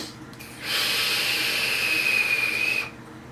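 A steady high whistle comes from an Advken Dark Mesh vape tank drawn with the airflow set halfway, rising for about two seconds over a breathy hiss, close and alone.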